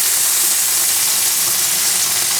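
Bacon sizzling loudly in a pan with a spicy mix, a dense, steady, bright hiss of frying fat, close and continuous, with no voices.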